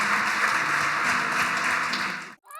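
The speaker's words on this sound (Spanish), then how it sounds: "Un fuerte aplauso al Señor." A church congregation gives loud, sustained applause after a prayer, dense clapping filling the room before cutting off abruptly near the end, followed by a brief faint tone.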